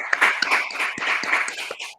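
Short burst of applause in a university classroom, several hands clapping irregularly at moderate loudness for about two seconds, with no talking over it.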